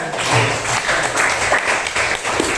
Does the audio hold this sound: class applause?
yes